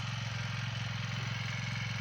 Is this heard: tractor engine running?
yes